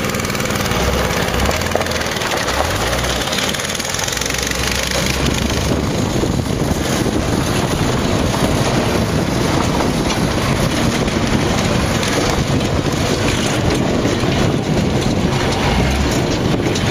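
A speed-limited go-kart engine drones loudly and steadily as a boy drives it, a constant rough motor noise close by without pause.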